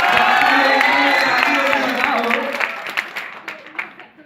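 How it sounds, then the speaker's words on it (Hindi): An audience at a comedy poetry event applauds and cheers for a guest, a loud burst of clapping and voices that fades into scattered claps toward the end. "जरा तुम लोग इनके लिए ताली नहीं बजाओ"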